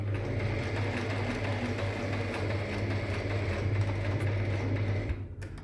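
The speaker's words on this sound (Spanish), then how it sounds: "Una vez que tenemos hecha la primera parte de la costura de la cinta bies" A sewing machine stitches bias tape around a vertical fabric pencil case, running as a loud, steady, close mechanical whir that stops near the end.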